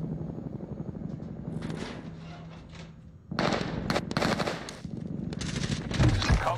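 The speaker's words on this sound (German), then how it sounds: "Die schießen durch die Wand durch" Gunfire in a shooter video game, with rapid automatic bursts that start quiet and become loud, dense and sustained from about the midpoint, including rounds fired through a wall, over faint background voices.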